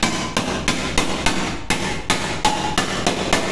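A wooden block taps the bottom of a pressure cooker in about a dozen evenly spaced, close, sharp knocks, with no talking.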